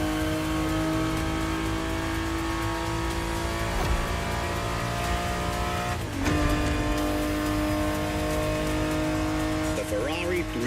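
A Ferrari 365 GTB4 in The Crew Motorfest video game holds a steady, loud engine drone with a brief dip and rising rev around the middle, sustained throughout with a sharp shift near the end, while a voice talks over it.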